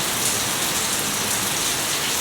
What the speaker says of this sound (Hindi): क्या खतरनाक सी बारिश हो गई भाई